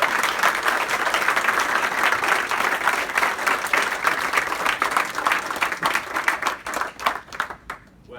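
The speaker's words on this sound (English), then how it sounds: "And a round of applause." An audience applauds at a leaving presentation, sustained loud clapping from many people in a room that gradually thins to a few scattered claps and stops.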